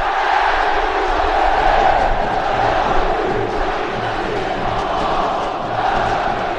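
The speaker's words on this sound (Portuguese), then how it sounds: "Canta a torcida do ABC na arena." ABC football supporters chant together in a packed arena at night during a Copa do Nordeste Clássico Rei match, a dense, continuous roar of massed voices sustained throughout.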